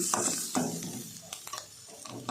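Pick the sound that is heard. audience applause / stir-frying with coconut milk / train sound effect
stir-frying with coconut milk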